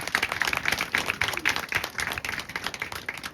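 An audience claps in a short, moderately quiet burst of applause with dense, irregular hand claps throughout.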